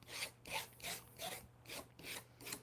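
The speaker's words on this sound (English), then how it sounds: "I'm scraping off any kind of excess paint" Rhythmic scraping strokes of a tool pulling excess paint off a painted canvas, six even rasping passes about half a second apart, close and fairly quiet with no talking.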